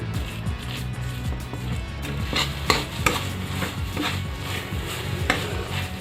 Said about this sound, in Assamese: এতিয়া কম জুইত ভাজি থাকিম।